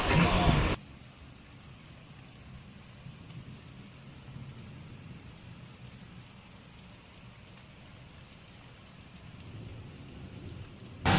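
A soft, steady patter of rain runs quietly in the background, framed by short louder bursts at the very start and end.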